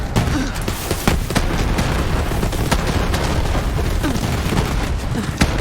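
Dense, continuous barrage of booms and pops from grenade explosions in Borderlands 3, with the character Moze, firing rapidly and overlapping into a steady roar of game combat, loud throughout.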